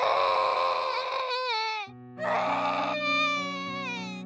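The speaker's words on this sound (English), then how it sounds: "I woke up to the sound of our child crying." A young child crying at night, loud, close wails with rising and falling pitch and a short pause before a second strained cry.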